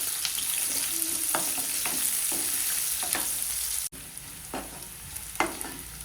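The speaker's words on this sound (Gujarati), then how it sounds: "તો આપણે ડુંગળી ઉમેરીશું, તેને સારી રીતે સાંતળી લઈશું।" Onion sautéing in hot oil with softened potatoes, a continuous close sizzle broken by intermittent scraping strokes of a spoon against the pan, with no one talking.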